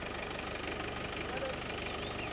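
A tractor engine runs steadily while powering a crop-cutting machine hitched behind it in a field, a continuous mid-pitched chugging drone with knocking vibration and no pauses.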